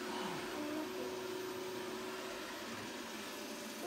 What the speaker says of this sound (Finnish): Imuroiko se nyt vai yrittääkö se mennä sinne kotiin?